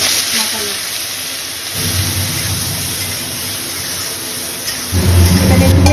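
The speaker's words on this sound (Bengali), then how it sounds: "প্রচণ্ড বৃষ্টি হচ্ছে" Heavy rain pours steadily outside a home kitchen, a dense, loud hiss with a deeper rumble that swells partway through and again near the end, with no voices over it.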